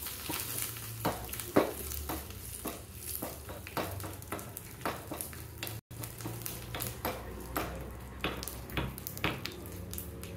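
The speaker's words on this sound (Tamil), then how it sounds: "கருவேப்பத்தலை, இப்படி தான் வந்து சட்னி தாளிக்கணும்." Red chillies, curry leaves and asafoetida sizzle in hot oil in a heavy pan while tempering chutney, a steady frying crackle with repeated clicks of stirring throughout, no talking.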